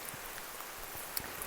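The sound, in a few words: pouring rain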